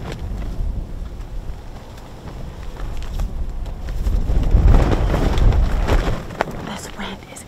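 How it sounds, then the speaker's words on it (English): Strong wind gusting outdoors on an Oklahoma deer hunt, buffeting the microphone with a low, rumbling roar that swells midway and then eases off. "This wind is absolutely insane."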